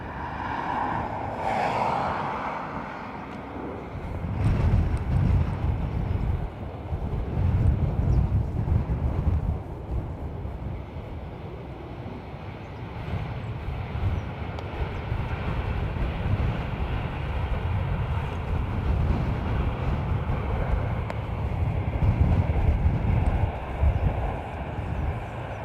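An aircraft landing in a crosswind at Dublin Airport, a broad heavy roar from a distance that swells and rumbles steadily for the whole stretch with no voices.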